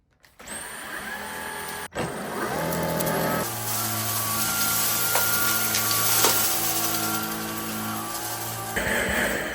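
A Dyson V16 Piston Animal cordless vacuum cleaner starts up and runs on carpet with a loud close whine and motor hum. Its pitch shifts a few times as the power changes, and it keeps going steadily with no speech.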